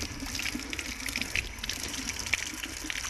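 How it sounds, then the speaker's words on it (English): Tap water runs steadily as hands are rinsed clean after a cleaning treatment, a continuous moderate gush with small splashy variations, no voices. "Then I just use a simple water rinse."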